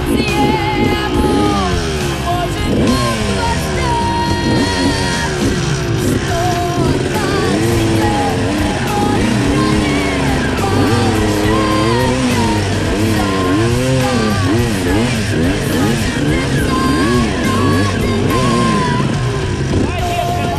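An enduro motorcycle ridden off-road, its engine revving up and down in repeated surging bursts, loud and close, with riders shouting and talking over it.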